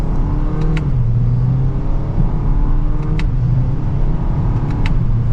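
A 2023 Toyota Corolla XSE hatchback with a CVT accelerates at full throttle in sport mode, second gear, giving a loud, sustained engine drone heard from inside the cabin, with a couple of faint clicks.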